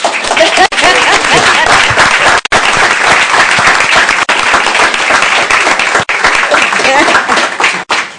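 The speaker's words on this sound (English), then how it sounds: "So I just want to give a round of applause for Ms. Jamie Glasser" A school board meeting audience claps loudly in a sustained round of applause with a few brief dips, and scattered voices and light laughter mixing into the clapping.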